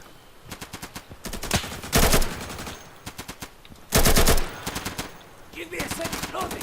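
Bursts of rapid automatic gunfire in the video game Insurgency, some long sustained volleys and shorter rattling strings of shots, loud and close with brief gaps between them.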